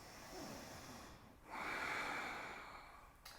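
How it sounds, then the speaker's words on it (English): Deep, audible breathing during a yoga flow class, with a long, airy exhale swelling and fading over a few seconds, close to the mic and with no talking. "and breathe for 3."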